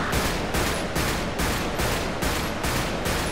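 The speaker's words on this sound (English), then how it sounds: "Shots fired!" Sustained automatic gunfire in a GTA police roleplay game: loud, rapid bursts repeating steadily about every half second in a continuous barrage, with no talk over it.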